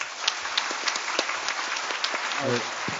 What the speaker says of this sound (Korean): 다 박수로 환영해 주십시오